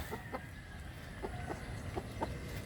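Several short clucks from a chicken, spaced irregularly over a steady low background rumble, moderately close.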